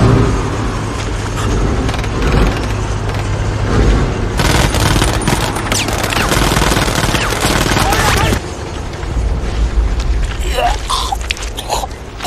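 Gunfire from Nazi soldiers in a war film scene, a dense burst of rapid shots from about four to eight seconds, loud over a rumbling low background and scattered nearer shots after.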